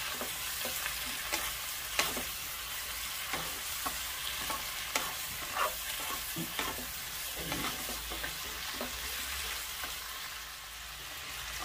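Chinese kale stir-fried with canned fish in a pan, a steady close sizzle with repeated scraping and tossing strokes of a spatula throughout.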